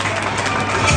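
An audience at an event applauds, a dense, steady wash of clapping from a crowd heard close and fairly loud for a brief moment.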